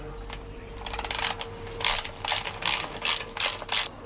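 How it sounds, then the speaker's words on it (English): A hand ratchet tightens 11mm bolts on a Citroen ZX 1.9 diesel engine during a timing belt fit, giving a fast clicking burst followed by five short, close rhythmic bursts of pawl clicks with no one talking. "So just do these up quickly."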